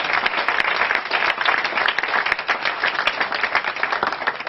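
A church congregation applauds, dense steady clapping from many hands that fills the whole stretch evenly without letting up.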